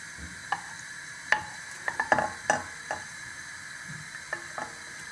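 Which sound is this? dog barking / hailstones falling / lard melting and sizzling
lard melting and sizzling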